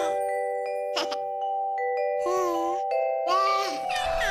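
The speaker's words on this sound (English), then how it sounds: "Listen, it's the doorbell." A cartoon doorbell rings out as bright, sustained melodic chime tones in a children's animated show, with a voice briefly joining in over the ringing.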